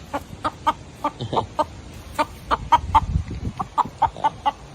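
Repeated short clucks from chickens frightened of a monkey, a steady series of sharp calls at close range over faint background rustling.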